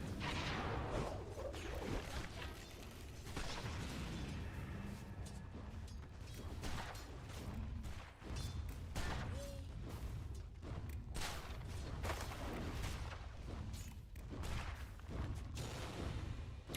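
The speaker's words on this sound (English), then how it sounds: "I like the gunshot noises as well." Gunfire and explosion effects from a Dota 2 match, a busy stream of sharp shots, booms and whooshes layered over continuous game music and ambience without any pause.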